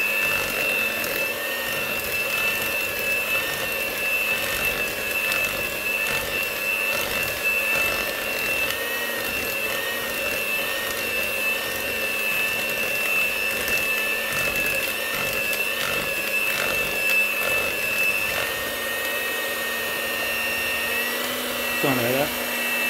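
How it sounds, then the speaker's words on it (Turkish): An electric hand mixer mixing chocolate chip cookie dough whirs steadily and fairly loudly throughout, with slight wobbles in its pitch as it works, and winds down at the very end. "Daha sonra yine mikserimizi. güzel yine karıştırıyoruz."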